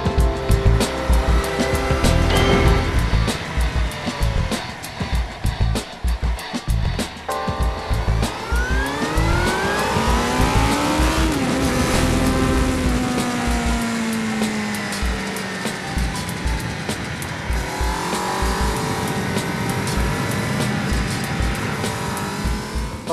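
A 600cc naked motorcycle engine revs and pulls hard through the gears, loud and close, with rising and falling pitch sweeps, strong low- and mid-range drive and a steady roar throughout.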